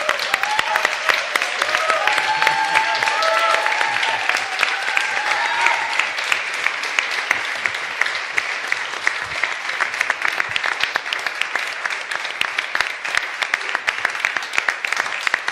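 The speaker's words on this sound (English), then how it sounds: "I think this deserves a small round of applause for David" A round of applause at a European Space Agency astronaut class news conference, brisk clapping from a room of people lasting the whole stretch, with faint voices and cheers early on before thinning to scattered claps.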